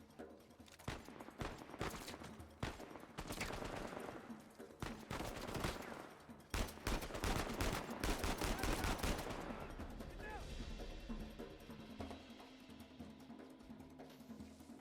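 Gunfire in the Uncharted 4: A Thief's End action game, with rapid bursts of shots and loud cracks in close succession, thinning out toward the end into a lingering rumble.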